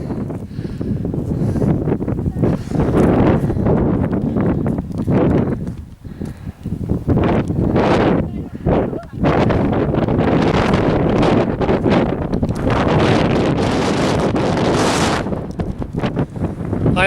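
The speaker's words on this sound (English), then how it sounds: "The wind is absolutely torrential." Strong wind buffets the microphone on the exposed hilltop at Moel Famau, roaring loudly and almost without pause, with gusts that rise and briefly ease.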